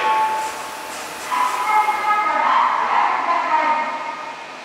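An Odakyu 4000 series train departs Hibiya station on the Chiyoda subway line. A rising whine and rolling rumble build steadily and loudly as it pulls away from the platform.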